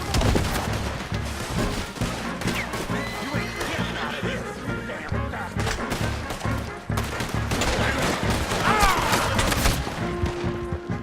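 Gunfire in the video game Red Dead Redemption 2, several sharp shots scattered through a dense, loud mix of galloping hooves and whinnying horses, with brief voices in the background.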